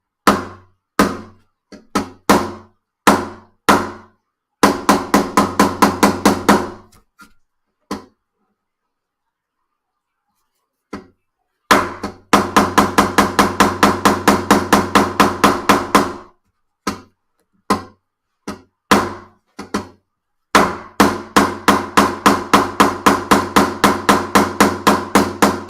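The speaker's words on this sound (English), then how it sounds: "Let's hammer that in." A hammer drives new frets into the fretboard of a vintage classical guitar: sharp, close taps in quick rhythmic runs, some isolated knocks, separated by pauses of silence.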